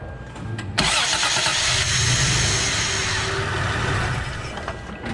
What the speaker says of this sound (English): I'm just gonna hook the battery back up and we'll try starting the truck.